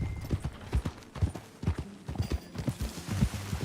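Horse hooves clip-clop at an even walking rhythm in the video game Red Dead Redemption 2, close and distinct, with a faint breathy ambience underneath.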